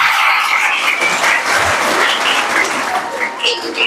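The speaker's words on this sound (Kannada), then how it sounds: "ಚಪ್ಪಾಳೆ ಅಷ್ಟೇ ಬರಬೇಕು ಮಾತ್ ಬರಬಾರ್ದು" An audience at a birthday celebration ceremony for the poet Da. Ra. Bendre claps loudly and steadily, a dense, continuous wash of applause from many hands filling the whole stretch.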